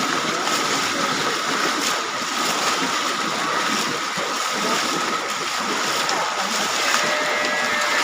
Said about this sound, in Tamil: அதாவது ஊருக்குள்ளே ஆறு மாதிரி தண்ணி போகுது